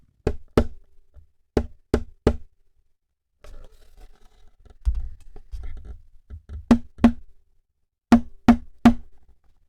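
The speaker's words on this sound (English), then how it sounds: "Here's the sound of the body resonance when I just tap it." A concert ukulele body tapped by hand, sharp resonant knocks in small clusters of two and three, close and clear, with softer handling noise in the quieter middle stretch between the groups.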